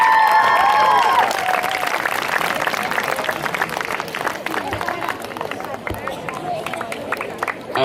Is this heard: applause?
yes